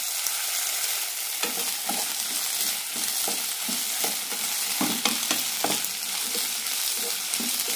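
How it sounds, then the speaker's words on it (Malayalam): Ivy gourd pieces sautéing in a teaspoon of oil in a pan, with a continuous sizzle and repeated scraping stirs knocking at an uneven rhythm, close and fairly loud, with no voices. "ഇതിലേക്ക് കോവയ്ക്ക ഇടാം"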